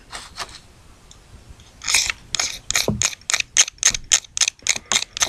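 A blade scrapes rhythmically along a commercial magnesium fire-starting bar outdoors, a few slow strokes first, then a quick run of about a dozen sharp, gritty rasps close to the microphone.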